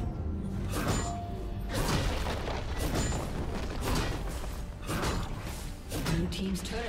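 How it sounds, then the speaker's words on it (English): A turret is destroyed in League of Legends: a dense, continuous rumble of crumbling, creaking and thudding debris with mechanical clanks, sustained and loud, with game sounds layered throughout. "Blue team's turret has been destroyed."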